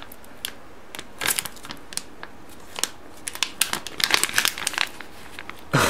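Crinkling and tearing of plastic packaging as an AliExpress parcel holding a keyboard-cleaning slime is opened by hand, with irregular close rustles and snips growing busier toward the end.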